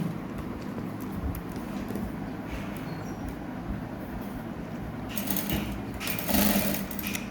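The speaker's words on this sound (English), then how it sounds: "making sure it's being held properly this way, and then you sew down as well" Sewing machine stitching down elastic on the leg of a child's back-elastic shorts, a steady close mechanical whirr with a busier, louder burst of stitching near the end.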